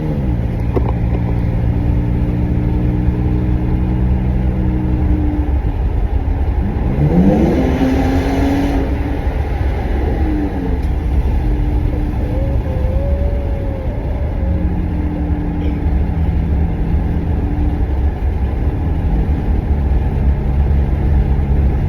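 A pickup truck with a newly fitted exhaust drives steadily, its engine droning loud and close with a brief swell of revving partway through.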